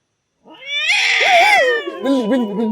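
A cat lets out a loud, close drawn-out meow that bends up and down in pitch, rising into a wavering caterwaul-like cry lasting over two seconds.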